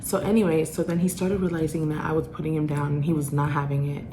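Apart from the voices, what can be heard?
No everyday noise stands out behind the speech.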